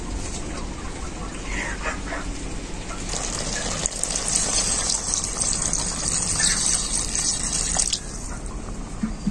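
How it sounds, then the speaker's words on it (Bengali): Water is poured into a pot of cooked chicken curry, a steady rushing splash mixed with bubbling hiss that lasts for several seconds, near and moderately loud. "এখন আমি মাংসের মধ্যে দিয়ে দেবো পরিমাণ মতো জল।"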